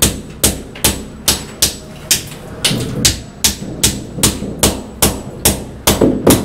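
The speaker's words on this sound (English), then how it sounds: "And the hammering begins." Sharp, regular hammer blows ring out while laying wall tiles in a house under construction in the Philippines, about two per second, loud and close.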